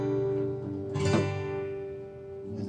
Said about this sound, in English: A G sounds like this.